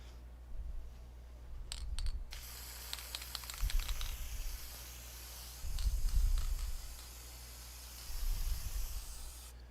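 Aerosol can of engine enamel, an alternator paint, sprays in several short hissing bursts close by, with low rumbling handling noise between them and no talk.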